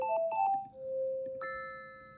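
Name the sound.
recipe app timer chime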